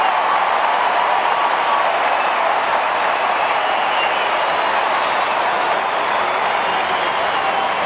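Stadium crowd roaring and cheering after a goal at a 2007 AFL match between Sydney and West Coast, a loud, sustained wall of cheers and applause filling the whole stretch without letup.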